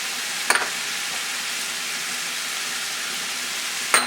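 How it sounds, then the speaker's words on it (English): Fennel seeds, turmeric, curry powder, cumin, salt and pepper fry in a pan for Sri Lankan chicken, a steady close sizzle framed by two sharp utensil scrapes at the start and end. "Going to give this a nice stir."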